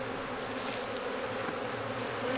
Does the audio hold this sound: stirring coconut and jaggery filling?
no